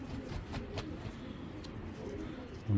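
Soft, low pigeon coos repeat in a gentle rolling rhythm, close by and fairly quiet, with no talking.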